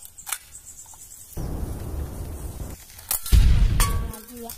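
A toy AK-47 gun fires in a few loud bursts of clattering, crackling noise separated by short pauses, with sharp clicks at the start and between bursts.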